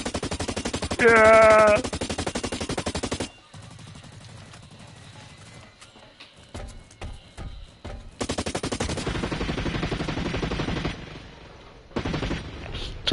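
Rapid automatic gunfire in the video game Blacklight, with loud sustained bursts at the start and again later, plus scattered shots in between and a brief spoken word.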